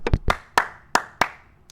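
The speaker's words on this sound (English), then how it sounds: "You can clap your hands" Hands clap in a quick, uneven series of about six sharp, close claps, isolated with no talking.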